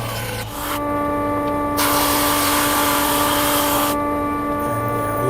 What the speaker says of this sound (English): I use the thickness sander way too much.